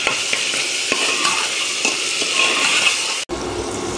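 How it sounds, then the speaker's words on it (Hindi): Tomatoes for mutton masala frying and softening in a pan, a loud continuous sizzle with light clinks, then a lid goes on and the sound drops to a muffled hiss. "तो अब इसको ढक ढक के थोड़ा टमाटर को गलाते हैं।"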